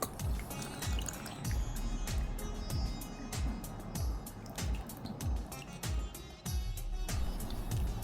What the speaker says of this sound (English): We shall add in enough water to dilute the stock.